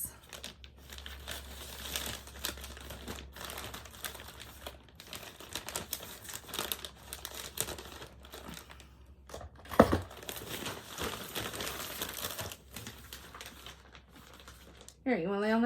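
Crinkling and rustling of a plastic bag handled up close at moderate level, with scattered sharper crackles and a brief louder burst near the end.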